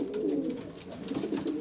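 A Belgian racing pigeon coos close by while it is handled, giving soft, throaty rolling calls in a few quick phrases.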